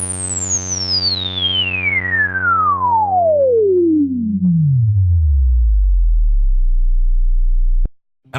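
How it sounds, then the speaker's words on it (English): A resonant ladder filter on the Ultra Analog VA3 software synth sweeps steadily downward over a sustained, buzzy chord, falling from a bright whistle into a deep bass drone before cutting off abruptly. "Also new in VA3 is the new ladder filter mode."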